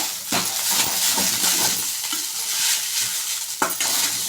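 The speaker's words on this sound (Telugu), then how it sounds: "ఇప్పుడు ఈ రెండు బాగా కలుపుకోవాలి" Coriander powder and salt being stirred into coriander rice in a hot pan, a close, steady scraping and shuffling of a spoon through the grains with soft sizzling and occasional metallic clinks, no talk.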